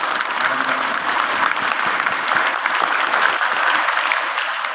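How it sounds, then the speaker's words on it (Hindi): Schoolchildren at a Kendriya Vidyalaya welcome a visiting madam with loud, vigorous clapping, a sustained dense patter of many small hands filling the hall without pause. "एक बार बच्चे जोरदार तालियां बजा के मैडम का"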